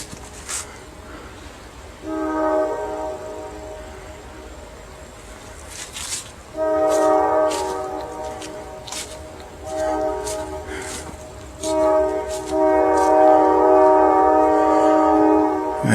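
Repeated horn blasts from a train passing through Conneaut, Ohio, sounding in several long sustained bursts with short gaps between them. The blasts ride over a steady low rumble, close and loud.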